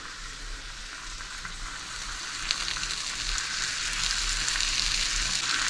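Venison tenderloins sizzle in a frying pan, a steady close crackle and hiss of hot oil that grows a little louder toward the end, with no one talking.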